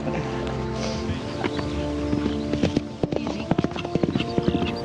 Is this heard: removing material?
no